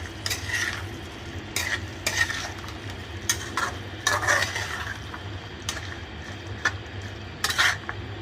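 Green chilies, carrot and peas stirred into a beef pasta sauce in a pan, a low sizzle under repeated close spoon scrapes and clinks against the metal in an uneven rhythm, no voices.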